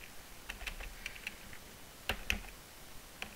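Computer keyboard keys clicking as someone types in a short, irregular burst of sparse taps, with a couple of sharper strikes near the end, fairly quiet and alone.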